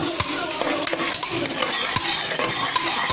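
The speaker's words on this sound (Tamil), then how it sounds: "பட்டை போட்டு இதெல்லாம் போட்டு வதக்கணும்." Cinnamon and whole spices sautéing in a pan for village-style mutton curry, a steady close sizzle broken by sharp scrape and clink of a spoon stirring against metal, no voices.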